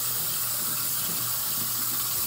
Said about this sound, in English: Why do you keep the water on? Because it's going to flood the sink.